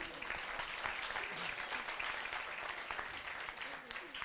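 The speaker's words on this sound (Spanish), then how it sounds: "Un aplauso, muy bien." Audience at an evening science talk on climate change claps together, a dense sustained patter filling the room for about four seconds with a few voices mixed in.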